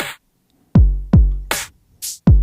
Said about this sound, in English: And now I can add like a quarter note triplet hi-hat to this.